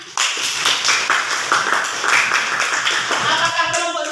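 A classroom of students claps together in a brisk, even burst of hand claps, close and loud, lasting several seconds before tapering off.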